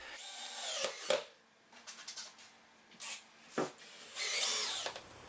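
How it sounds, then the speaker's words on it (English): A power drill bursts on in several short, separate runs between quiet pauses, close by, as screws are driven into the side of ready-to-assemble wooden cabinets. "So I'm able to drill right into the side."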